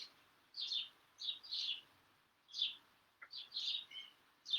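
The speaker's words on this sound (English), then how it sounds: "you can probably hear the birds in my little garden outside" Birds chirp and sing in short bright bursts with brief pauses in a small garden, fairly faint and outdoors, with no one talking.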